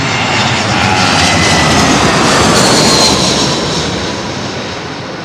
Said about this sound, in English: green stripy Condor 330 should go overhead west to east shortly